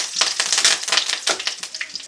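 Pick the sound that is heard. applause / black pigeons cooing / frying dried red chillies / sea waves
frying dried red chillies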